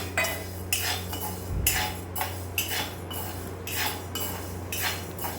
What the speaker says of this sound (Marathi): काही तूर डाळ भाजून घ्यायला आपण, पण अशी खमंग भाजून घ्यायची